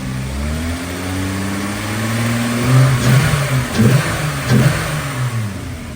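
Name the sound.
car engine revving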